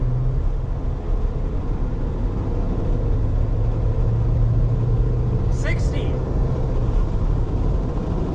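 Sprinter van engine pulling under power on a race track, a steady low rumbling drone heard from inside the cabin with road noise and a brief squeal; a person talks throughout.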